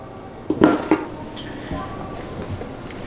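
Mixing bowl picked up and set down for banana bread prep, a few close clanks and knocks of kitchenware in the first second, then quieter handling noises with soft background room sound.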